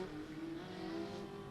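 A local-class race car laps the front straightaway at Beckley Motor Speedway, its engine a sustained faint buzzing drone heard from a distance, steady and unbroken through the moment.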